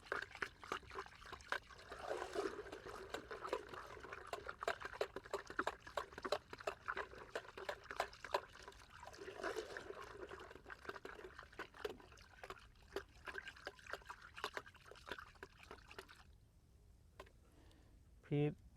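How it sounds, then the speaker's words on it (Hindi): Herbicide solution for paddy weeds is poured from a container into a half-filled sprayer tank outdoors, a steady liquid trickle and splash running through most of the clip with faint talk and a brief knock near the end. "इसको टंकी में डाल लेंगे।"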